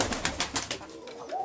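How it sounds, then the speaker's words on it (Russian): Pigeons in a loft in Sumy coo softly and rhythmically, several low pulsing calls close by over a breathy background. "Голуби"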